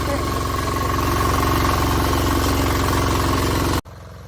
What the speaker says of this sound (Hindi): तो ये पावर टिलर है।